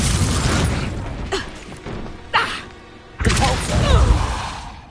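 Repeated Confringo spell blasts in Hogwarts Legacy: a series of close, punchy booms and bursts, each a second or so apart, with whooshing tails and rumbling mechanical game ambience between them.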